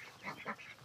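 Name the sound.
ducks quacking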